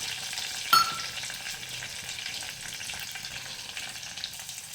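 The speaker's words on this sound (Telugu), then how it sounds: "ఇవి గోల్డెన్ బ్రౌన్ కలర్ వచ్చినంత వరకు ఇలా ఫ్రై చేసుకుందాం." Green chillies and onions fry with biryani masala in a pan, giving a steady, soft sizzle with a brief clink of a utensil near the start and occasional stirring.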